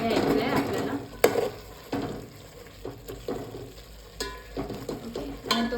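A masher works cooked onion and tomato for pav bhaji in a pan, making repeated squelchy thumps and scrapes at an uneven pace, close and moderately loud, with light sizzling in between.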